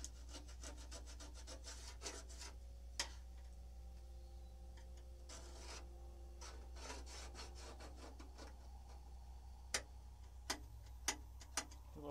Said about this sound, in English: File work on that corner